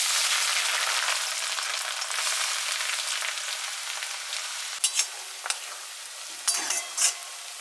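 Chopped onions sizzle and fry in hot mustard oil with bay leaf, dried chillies and whole garam masala for mutton kosha, a steady loud hiss with a few sharp spatters and stirring clinks near the end.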